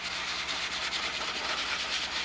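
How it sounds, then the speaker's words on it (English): Sanding block rubbed over the silver-finished wing fillet area of a model Spitfire 22, a steady rhythmic scratchy back-and-forth rasp, close and moderately quiet, with no talking. "I can just get that corner of the sanding block worked right into the fillet area."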